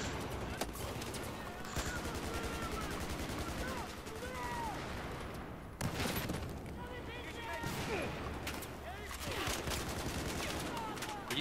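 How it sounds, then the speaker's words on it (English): Gunfire and explosions in Battlefield 4 crackle in rapid bursts with heavy booms, a constant barrage of shots near and far, with a player talking over the battle noise. "There's a lot of explosions going on though."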